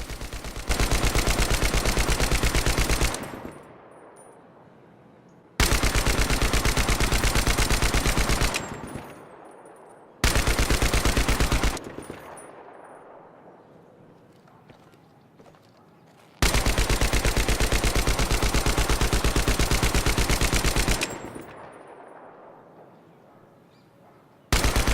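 Sustained automatic rifle fire in Battlefield 3, four long full-auto bursts of several seconds each separated by short gaps with fading echo tails, loud and close with no talking.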